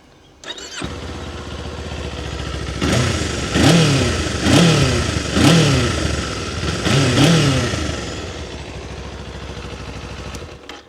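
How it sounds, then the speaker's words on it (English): A warmed-up 2024 Kawasaki Eliminator 500 SE cruiser motorcycle engine idles, then revs four times in sharp throttle blips with a deep exhaust note, loud and close, before settling back. "let me show you the exhaust note of this bike."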